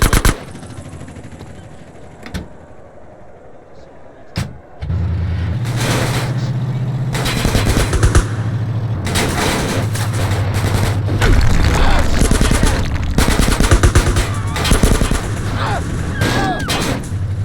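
Gunfire in the video game GTA: San Andreas, a building assault with a SWAT tank, as dense bursts of automatic shots over a low rumbling engine drone, loud and continuous after a quieter opening.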